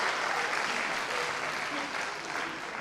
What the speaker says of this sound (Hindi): कि आप ताली से इसका स्वागत करेंगे